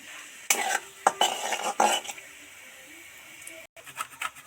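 Ground panch phoron and dried red chilli sizzle after being dropped into hot mustard oil in a kadai. Several sharp metallic clanks from a spoon striking the pan break through the frying hiss.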